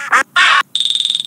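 Two short squeaky quacks followed by a rapid run of electronic-sounding quacks, bright and close, like a toy duck.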